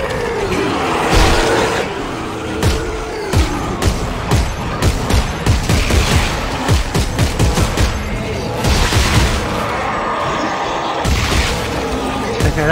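A new weapon fires in the Dead Space VR game: loud, booming shots ring out in a quick irregular series, echoing heavily in a tense game space.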